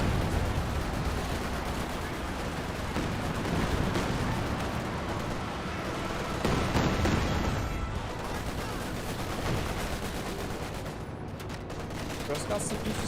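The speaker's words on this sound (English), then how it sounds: "That ML20 reaches out all the way up here. Barrage running on in." An ML-20 artillery barrage in the video game Company of Heroes 2 rumbles as a steady, dense wash of battle noise with distant booms and gunfire, while a commentator talks over it throughout.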